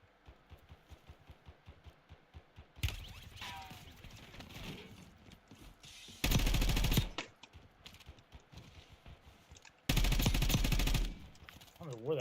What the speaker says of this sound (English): I don't know where that guy's shooting from